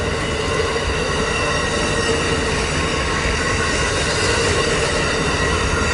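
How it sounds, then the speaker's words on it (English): A train rumbles steadily past with a dense, continuous roar and faint high wheel squeal, loud and close throughout with no break. "It truly is a remarkable train."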